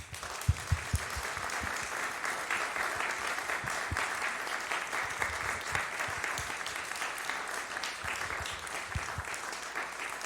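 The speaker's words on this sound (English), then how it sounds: "Please join me in giving all of these heroes a warm round of applause" A church congregation at a Sunday service applauds its religious education volunteers, a steady, dense round of many hands clapping that carries on for about ten seconds with a few sharper claps near the front.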